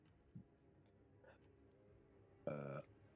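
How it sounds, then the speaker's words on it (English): A single short burp sounds close to the microphone and fairly loud, with a few faint background noises before it and no talking. "I didn't mean to burp in your 5. ear."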